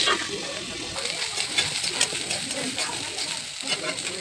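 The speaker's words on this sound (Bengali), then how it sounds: "ফুলকপিটা দিয়ে দিলাম, দিয়ে ঢেকে ভালো করে ভাত দিয়ে ভেজে নেব দুটোকেই একসাথে" Cauliflower and rice frying together in a pan, a soft continuous sizzle with occasional stirring scrapes, fairly quiet and close, with a voice faintly present.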